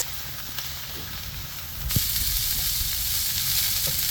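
Steady sizzling and crackling of onion and garlic frying in a hot pan, continuous and close, growing slightly louder partway through.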